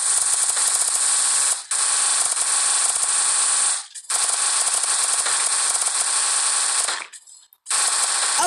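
Loud, sustained rapid gunfire from the zombie video game Zombie Rush rattles on in long continuous bursts, broken by a few short pauses.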